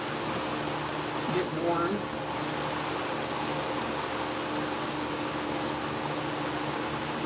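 An electric hair clipper runs steadily after blade sharpening, a loud, close, continuous buzzing hum that holds constant throughout, with a brief voice over it.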